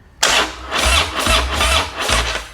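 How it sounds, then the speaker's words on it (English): A 2016 Harley-Davidson Road Glide in neutral with its fuel tank off cranks and catches with a sudden loud start, then settles into a throbbing idle with a few surging pulses through its pipe. "Let's just kick it over and make sure it sounds okay without a fucking fuel tank."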